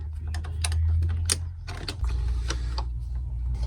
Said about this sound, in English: just screw from the top and hold the plastic from the bottom